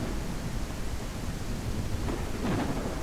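Heavy rain pours in the video game Bastide as a dense, constant wash of noise with a low rumble beneath it, steady and fairly soft with no voices.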